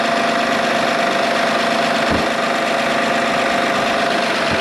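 A 2008 Honda Odyssey engine idles steadily and loudly up close after alternator, VVT and valve cover gasket work, giving a constant droning hum with faint rhythmic ticking and no speech.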